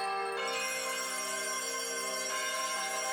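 Church bells ring, bright sustained metallic tones layered and overlapping, with fresh strikes adding new ringing partway through. They are heard alone, without voices.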